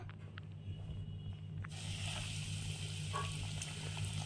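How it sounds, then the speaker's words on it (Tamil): Marinated chicken pieces for a homemade KFC-style fry go into preheated oil, a soft hiss and sputter that swells noticeably partway through and keeps crackling steadily at moderate distance, with no talking. "இப்போ நம்ம போய் எண்ணெயில் போட்டு பொறிக்கலாம்"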